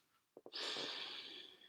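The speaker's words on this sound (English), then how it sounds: "So you're breathing like this." A person doing a breathing exercise takes two quick sniffs in through the nose and then one long, steady breath, close and fairly soft.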